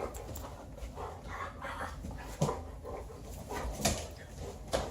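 A service dog pants close by in quick, breathy rhythm, with occasional soft whimpers and small shuffling noises mixed in, steady throughout.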